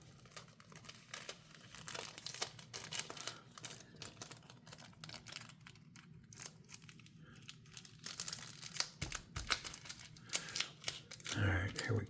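Adhesive tape being handled and folded over while finishing titanium knife scales, with soft close crinkling and peeling crackles, small taps and rustles continuing throughout at a low level.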